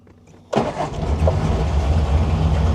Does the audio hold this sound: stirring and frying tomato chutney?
no